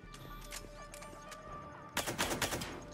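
Pistol shots in Mass Effect 3 ring out as a quick burst of several sharp cracks after a quieter stretch of game ambience, fairly loud and close.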